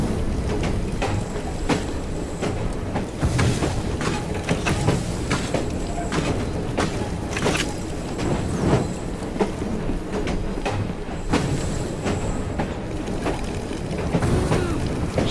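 A steam-era train rolls along in Assassin's Creed Syndicate, a steady rumbling clatter of wheels and carriages with rhythmic knocks and hissing, loud and continuous throughout with no voices over it.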